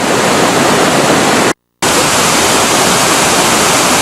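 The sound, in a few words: waterfall at Plitvice Lakes, Croatia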